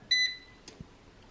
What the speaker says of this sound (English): the time is halfway through and the air fryer just beeped